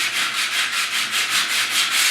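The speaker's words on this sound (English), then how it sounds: "We're just going to sand this out." A rusty tire rim being sanded by hand with 80 grit sandpaper, rough scraping strokes repeating in a steady back-and-forth rhythm, loud and close with no voices.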